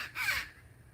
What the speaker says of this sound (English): There's the crow call.